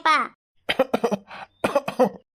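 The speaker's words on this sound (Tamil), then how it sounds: "பாருங்க எப்படி இருமுறீங்க பாருங்க" A person coughs repeatedly in several harsh, close bursts separated by short pauses.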